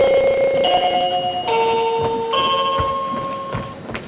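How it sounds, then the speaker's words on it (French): A nurse call bell in a hospital room setting rings with sustained electronic tones that step between pitches, loud and steady, with no talking. "Monsieur Dubreuil, vous avez sonné?"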